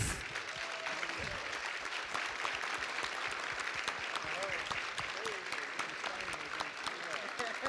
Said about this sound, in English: will you please join me in giving our incredible panel a massive round of applause?